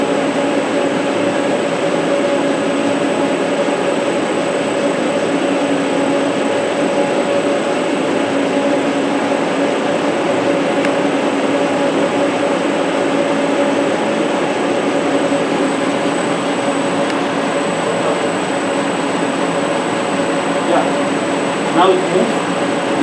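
A friction stir welding machine traversing along its x-axis gives off a steady, close mechanical drone with sustained tonal whine, holding an even level throughout with a faint click near the end.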